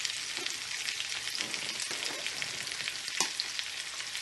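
A pinch of rosemary fries in a butter and oil mixture in a pan, giving a soft, even sizzle with a few faint stirring touches.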